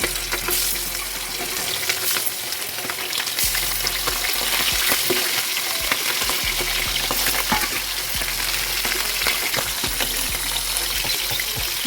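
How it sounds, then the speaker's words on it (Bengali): Hilsa fish sizzles steadily in hot oil for a Bengali brinjal curry, a dense continuous frying hiss with occasional stirring scrapes and faint trickling, close and fairly loud throughout without talk. "মাছটা ভাজাটা হচ্ছে, একটু কিছুক্ষণ সময় দিতে হবে ভাজার জন্য।"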